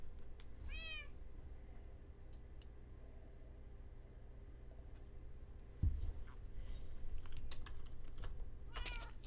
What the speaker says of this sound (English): Well, good morning to you, Mr. Kitty.